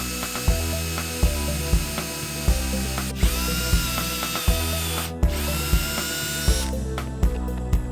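A power drill bores holes for casters into an old workbench, whining loudly in steady bursts with rhythmic pulses as the bit bites into the wood, the pitch rising to a higher whine partway through.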